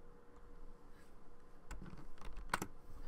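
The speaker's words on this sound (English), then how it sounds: "when you click on tab on your keyboard" Computer keyboard keys pressed at a desk during 3D modeling work in Blender, a few quiet, sharp clicks and a quick double tap over faint room hiss.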